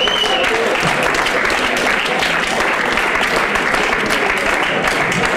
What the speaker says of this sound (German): Das ist aber ein bisschen ein träger Applaus.